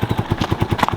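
A Yamaha 350 Warrior quad in poor condition idles to warm up, its engine putting out a steady, rapid low chugging pulse, close by and fairly loud.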